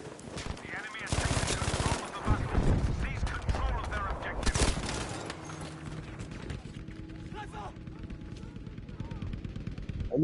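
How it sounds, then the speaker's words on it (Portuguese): Gunfire in Battlefield 5: rapid automatic bursts in dense clusters early on, then thinner scattered shots as someone talks over it. "o cara tá me atirando aqui, bro"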